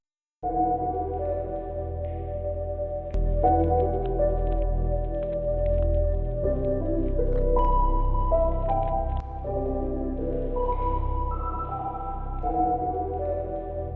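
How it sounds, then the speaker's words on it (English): A sustained synth chord progression in FL Studio playing continuously, shifting chords every few seconds, with the reverb toggled so the tail is alternately dry and washed in spacious reverb. "I'm just going to turn the reverb off and on just for comparison"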